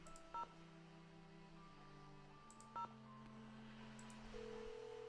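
DTMF tones from a telephone being dialed in the Nancy Drew game Danger on Deception Island: short beeping key tones over steady hum and game background sound, with no one talking.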